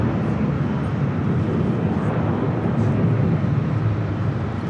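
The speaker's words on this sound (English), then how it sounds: "Virgin Atlantic Flight 24 heading to London Heathrow, 787-9 Dreamliner heading over here to the north side" A Virgin Atlantic Boeing 787-9 Dreamliner bound for London Heathrow passing at LAX, a steady broadband jet roar heard from a distance, even and continuous with no voices.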